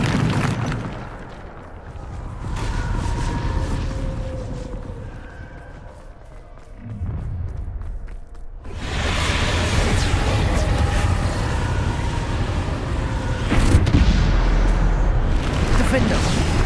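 The Bombarda spell goes off in Hogwarts Legacy with heavy, rumbling blasts over dense ongoing game noise, and voices can be heard through the booms.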